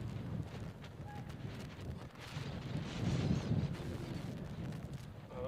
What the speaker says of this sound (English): another big gust of wind comes flying across the playing field